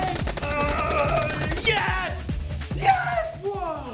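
Automatic weapons hammer at a boss's weak spot in The Division 2 with rapid, steady bursts. Excited voices shout over much of the fire.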